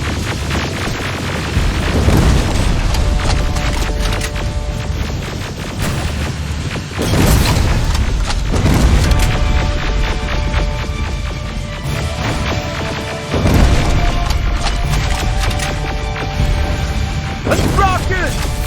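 Rocket blasts and heavy mechanical crashes in the game Terminator Resistance, several loud booming impacts spaced through a dense, rumbling battle din.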